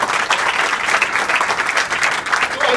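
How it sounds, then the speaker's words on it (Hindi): A classroom of school students claps in a brief, dense burst of applause, close and loud, lasting under three seconds. "वेरी गुड, ताली बजाओ, सबको याद है।"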